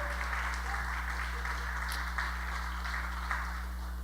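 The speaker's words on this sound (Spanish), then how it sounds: "Deme un aplauso a Gonzalo, por favor" A church audience applauds in a steady wash of clapping over a low constant hum, moderately loud and continuous throughout.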